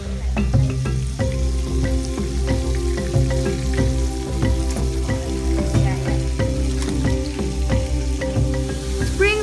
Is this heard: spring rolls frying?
yes